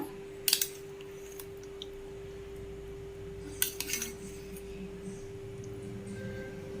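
Metal utensils clink against a plate while egg fried rice is served, a few sharp scrapes and taps over a steady low hum in a quiet kitchen.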